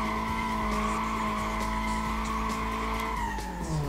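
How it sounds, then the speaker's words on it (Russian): A car in Need for Speed: Most Wanted spinning through a 360-degree turn on throttle and brake alone, tires squealing loudly and continuously over a droning engine whose pitch sags toward the end. "если попробовать разворот на 360 без ручника, а чисто газ-тормоз?"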